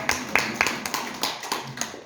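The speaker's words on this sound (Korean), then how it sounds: "박수 좀 주세요" Sparse, scattered handclaps from a lecture audience answering a call for applause, a handful of separate sharp claps spread unevenly over two seconds with no voices.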